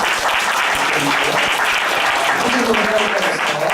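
Members of a church congregation clap steadily as a junior pastor comes forward during Sunday worship. The applause is loud and sustained, a dense even patter of many hands throughout.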